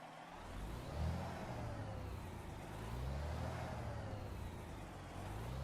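A Detroit Diesel Series 60 engine of 515 horsepower in an older Peterbilt truck idles in American Truck Simulator, a steady low rumbling drone with a faint whir and gentle rises and falls.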